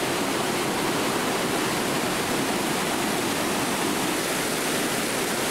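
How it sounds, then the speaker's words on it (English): Water trickles over the edge of a reservoir dam wall and flows out into a river, a steady broadband rushing wash that holds even and continuous throughout, with no voices. "the water goes over and flows out through that river"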